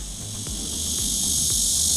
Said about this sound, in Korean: 또 매미가 반갑게 울어댑니다.